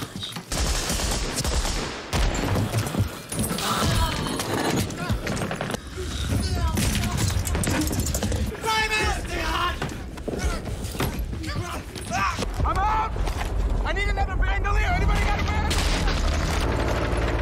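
Rapid gunfire and explosions from the war film Saving Private Ryan, with dense bursts of shots and booms throughout, loud and continuous under people talking and reacting.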